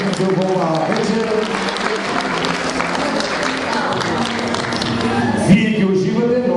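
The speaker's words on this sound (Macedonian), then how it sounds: "Со голем аплауз да ги поздравиме сите учесници во оваа вечер" Audience applause fills an evening dance performance of classical and modern dances at a culture centre in Delchevo, steady and loud throughout with crowd noise and some voices mixed in.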